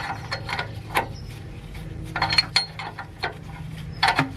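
A tool unscrewing the upstream O2 sensor on a BMW E36, heard as close metallic clicks and ratcheting taps in irregular bursts over a faint background hum.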